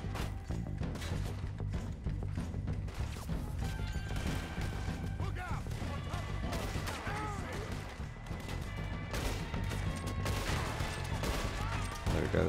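Gunfire in Red Dead Redemption 2 crackles over a dense game soundtrack, scattered shots and impacts mixed with music and effects at steady loudness, with a voice talking at times.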